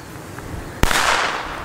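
An old-school B-class 1.5 gram black-powder firecracker goes off once, a single sharp loud bang with a brief crackling tail, outdoors on a quiet street.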